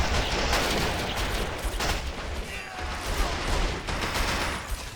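Dense battlefield gunfire in a Men of War: Assault Squad 2 combat scene, with continuous overlapping bursts of machine-gun and rifle fire loud and unbroken across the whole stretch, no voices.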